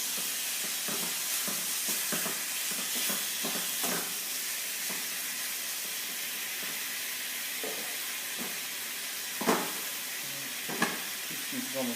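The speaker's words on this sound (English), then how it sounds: "Back to the wooden spoon. Stir, stir, stir." Vegetables sizzle and fry in a pan while a wooden spoon stirs them, giving a steady hiss broken by soft scraping knocks and a couple of sharper clacks near the end.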